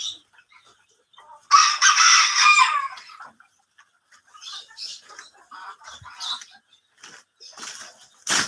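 Farm chickens and a rooster in a roomy poultry yard: a loud crow near the start, then scattered clucks and short calls at varying distances, with some wing flapping and no talk.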